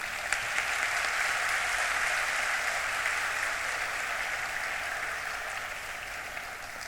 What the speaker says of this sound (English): Can the applaud be louder,